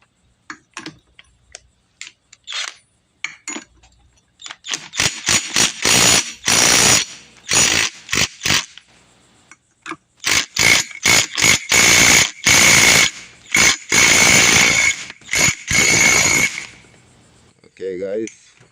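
A ratchet with a 27mm socket tightens a nut during engine reassembly on a 2006 Kawasaki KX250F, making rapid, loud clicking bursts in repeated strokes with short pauses between them.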